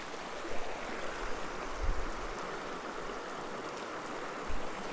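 Water runs steadily through a gold-prospecting sluice set in the East Fork of the Azusa stream, a constant rushing wash with a few low thumps.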